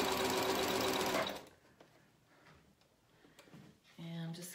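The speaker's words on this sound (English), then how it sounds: "I'm going to stitch all the way around." A sewing machine stitches around the edge of fabric for a McCall's 7061 garment in a fast, loud, rhythmic whir that stops after about a second, followed by quiet handling clicks and a brief whir at the end.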